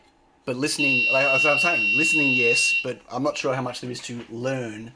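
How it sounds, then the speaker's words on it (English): Steady electronic beeping tone from an alarm, a high, unbroken note that holds for about two seconds while someone talks over it, then stops. "Sorry about the beeping."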